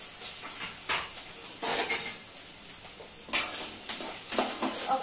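Green chilies and onions frying in hot oil are stirred with a metal utensil against the pan, giving a steady soft sizzle with several scraping clatters close by.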